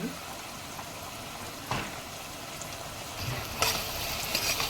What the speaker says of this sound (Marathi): परतून घेऊया व्यवस्थित. त्याच्यामध्ये 2 चमचे मीठ टाकून